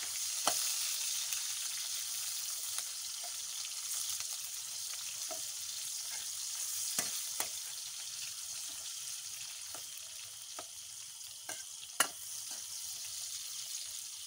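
Onions added to golden-browned garlic frying in a pan, a steady soft sizzling hiss throughout with occasional clicks of a utensil, no voices.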